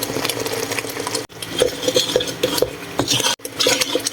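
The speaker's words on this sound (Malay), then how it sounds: "Kita kacau sampai pecah minyak." A spoon scrapes and stirs spices frying in oil in a cooking pot, with repeated close clinks and scrapes over a faint sizzle.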